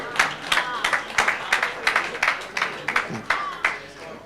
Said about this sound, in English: A round of applause for that, sir.